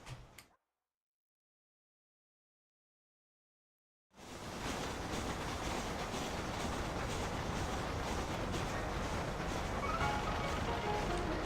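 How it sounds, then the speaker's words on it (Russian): Train rolling by in the video game Red Dead Redemption: a brief blip, then silence for several seconds, then a sudden, sustained broadband rumble with faint clickety-clack of wheels holding loud and steady to the end. "Поезд."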